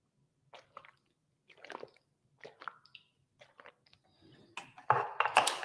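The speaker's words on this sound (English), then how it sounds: "Let me take another sip, okay?" A person sips and gulps water up close, a series of short wet swallowing and slurping sounds spaced apart, growing louder and more squishy toward the end.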